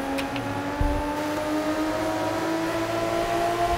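A car engine in the Forza racing game, with a steady droning hum that holds a constant pitch and a brief low thump near the start, continuous and fairly close, with no speech.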